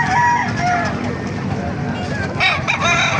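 A rooster crows loudly at a busy chicken market in Calumpit, Bulacan, with clucking and other fowl calls mixed into a noisy crowd background.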